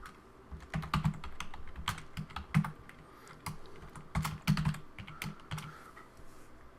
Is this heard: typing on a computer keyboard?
yes